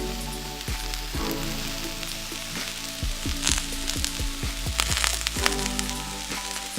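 Chicken stir fry sizzles in pans with a steady crackling hiss, punctuated by sharp pops and spatters, close and continuous throughout.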